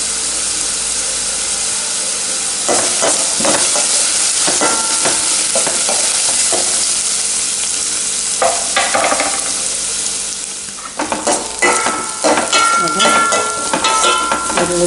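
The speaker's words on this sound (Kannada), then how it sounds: "ಅದು ಒಂದು ಕಾಯಿ ಮೆಣಸನ್ನು ಈ ಒಗ್ಗರಣೆಗೆ ಹಾಕೊಳ್ತಾ ಇದ್ದೇನೆ." Green chili dropped into hot tempering oil for a home-style mushroom gravy sizzles loudly and steadily, with clattering stirring strokes and a sharper burst of crackling near the end; no one speaks.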